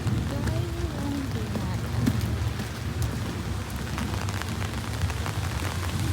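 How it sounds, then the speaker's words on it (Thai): Steady rain with strong wind at Nagoya port hisses continuously with a low, gusty rumble underneath, a dense wash of noise that never lets up. "ฝนตกลมแรง"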